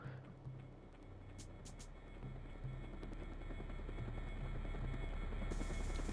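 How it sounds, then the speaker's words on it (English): A military helicopter at an air base in the video game Syphon Filter 2 drones with a steady rotor hum that builds louder over several seconds, with scattered game sound effects on top. "Let's steal the chopper."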